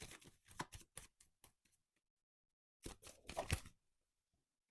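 Tarot cards being shuffled by hand give short crisp riffling bursts at close range, a quick run of snaps, then a pause, then another cluster, with no voice.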